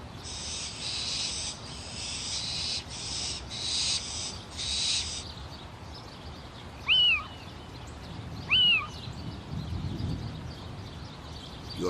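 Owl calls rising out of a night soundscape: two short, clear hoots spaced about a second and a half apart in the middle, over steady insect or cricket buzzing that pulses loudly at first, with a faint low rumble near the end.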